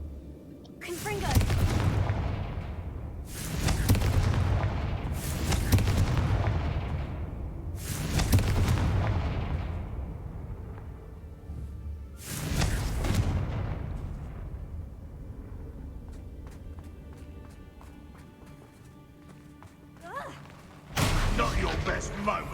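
Repeated fiery Confringo spell blasts in the Hogwarts-style Harry Potter video game, five heavy booming explosions in steady succession with long rumbling decays, then a sixth burst after a pause, loud and close.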